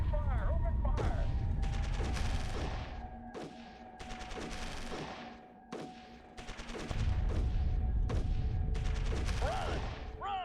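Repeated bursts of gunfire and explosions in the strategy war game Shadow Empire, loud clustered volleys recurring every second or so over a constant low rumble, with whistling tones between them.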